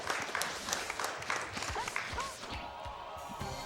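Studio audience at a charity speedrun marathon, AGDQ 2018, gives a burst of applause and clapping that tapers off over a few seconds, with faint voices mixed in.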